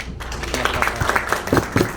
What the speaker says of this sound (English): So a big round of applause first for all of you.